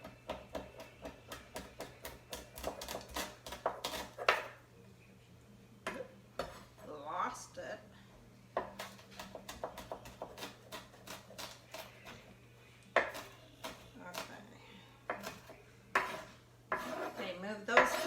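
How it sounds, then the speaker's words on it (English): Repeated knife strokes chopping green onions on a board in a home kitchen, a dense run of sharp close taps in bursts with short pauses, mixed with clatter of dishes and utensils and a steady low hum. "I'm going to cut my green onions."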